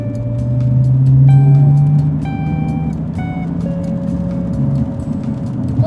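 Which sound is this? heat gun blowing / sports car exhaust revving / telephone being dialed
sports car exhaust revving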